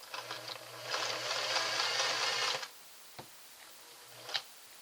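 A Singer 403A sewing machine stitches at its longest stitch setting, with a steady mechanical whir and a clatter of needle strokes for about two seconds that then stop, leaving a few faint clicks.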